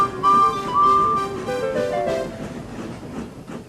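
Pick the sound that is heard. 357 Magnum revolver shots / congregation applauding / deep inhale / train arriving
train arriving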